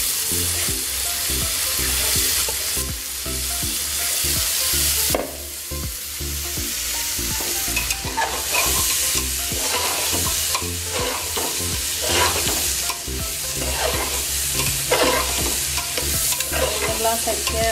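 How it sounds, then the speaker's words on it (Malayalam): Rice fries and sizzles loudly in the oil left in a pot for Kerala-style chicken biryani, with continuous crackling and repeated scraping strokes of a stirring spoon close by, and no talk. "കോരി വെച്ചിട്ട് ബാക്കിയുള്ള എണ്ണയിലേക്ക് അരി വറുക്കും."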